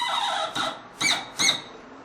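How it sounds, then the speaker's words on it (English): An old tap valve being unscrewed gives off three short, high squeaks in quick succession, close and fairly faint, with no talking. "Keep turning until you hear a little squeak."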